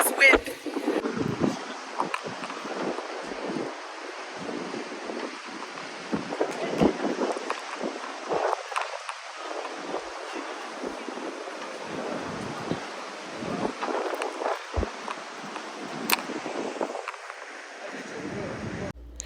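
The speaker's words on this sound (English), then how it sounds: "I don't even know if you guys can hear me because of this wind." Strong gusting wind buffets the microphone on the seaside stone ramparts of Essaouira, Morocco, a loud continuous roar through the whole stretch while a voice talks beneath it.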